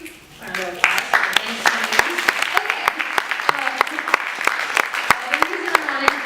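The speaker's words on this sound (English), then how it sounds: "Round of applause" At a spoken word poetry night, the audience breaks into applause after a poem: sharp claps ring out close by, with voices and cheering mixed in throughout.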